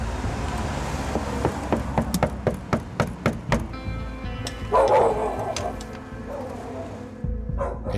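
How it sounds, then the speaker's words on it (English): Two large dogs bark in a run of sharp, evenly spaced barks near the microphone, then a brief scuffle and a few scattered sounds follow against steady background noise. "It isn't just the two large dogs that Paul's worried about."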